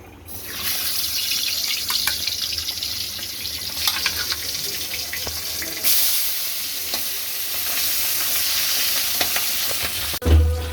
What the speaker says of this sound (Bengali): এখন দিব তেল মাছগুলোকে এবার ভেজে নিতে হবে